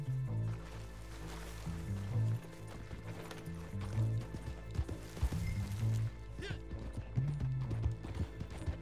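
Horse hooves clip-clop in Red Dead Redemption 2, a fairly loud running rhythm mixed with game music, a neigh and people talking over it.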